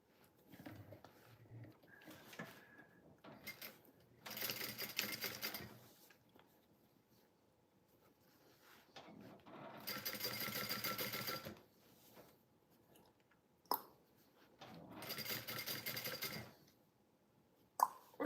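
A sewing machine stitches the bottom of a bag pocket in three separate bursts of rapid, steady whirring, with short quiet pauses and small handling clicks between runs.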